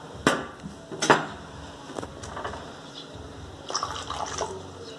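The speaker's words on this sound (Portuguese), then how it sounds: "E vamos aqui adicionar a água." Water poured from a container onto a small soil sample during a classroom soil-penetration demonstration, heard as a few short splashy pours and light liquid trickles with soft clinks, close and fairly quiet, with no voices.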